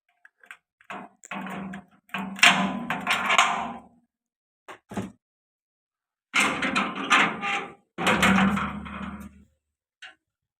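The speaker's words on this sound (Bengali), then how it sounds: "এবার বাইরের দোর খুলতে যাব" The outer door of a house being opened, heard as a series of close wooden knocks, bumps and scraping rattles in irregular clusters with brief silent gaps between them.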